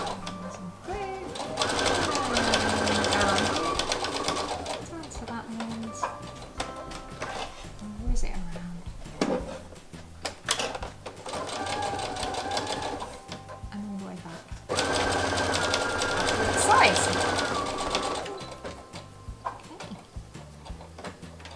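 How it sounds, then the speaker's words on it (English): Sewing machine top stitching three sides of a bag flap with a large stitch, running in long steady bursts separated by pauses, with someone talking over it throughout. "coming down and top stitching these three sides here on the flap"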